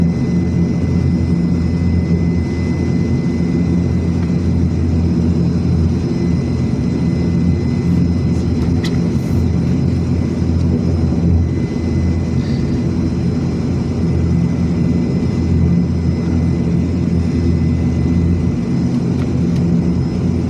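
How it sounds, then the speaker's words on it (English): A Cebgo airliner's engine spins up before takeoff, heard from inside the cabin as a loud, continuous low roar with a steady whine on top and no talk. "that second engine's turning on"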